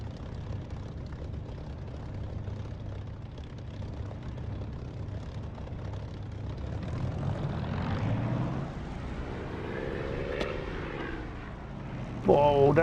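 A propeller aircraft engine in the DCS flight simulator game drones low and steady, building toward a louder whine near the end, with a voice talking faintly underneath.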